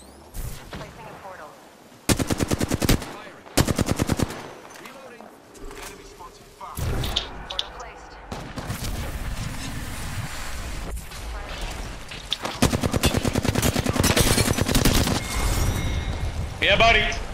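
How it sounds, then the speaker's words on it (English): Gunfire rattles in an Apex Legends match, with bursts of rapid automatic shots, heavy blasts and sustained loud firing from close range, over a player talking. "Oh wow, that was good shooting."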